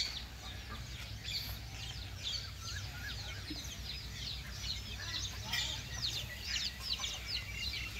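Chickens on a rural homestead cluck in quick repeated bursts at moderate distance over a low background hum, continuing throughout.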